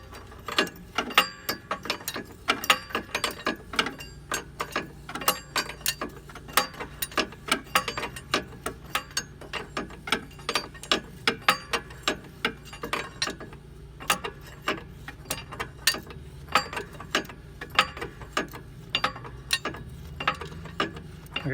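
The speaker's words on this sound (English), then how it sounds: "Go ahead and tighten this bottom nut." A hand ratchet tightens the bottom nut of a shock absorber on a Wanderlodge, clicking in rapid repeated bursts of sharp, close pawl ticks with brief pauses between strokes over about twenty seconds.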